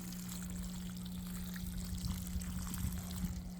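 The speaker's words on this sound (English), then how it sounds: "We're gonna give it some water." Water poured onto a potted Cochin dwarf jackfruit tree, a faint trickling splash over soil against a constant low electrical hum, with the pouring growing slightly more pronounced toward the end.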